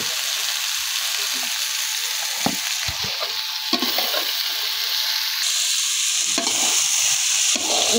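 Potatoes fry in a pan with a little turmeric, giving a continuous close sizzle broken by scraping stirs and clinks from the spatula.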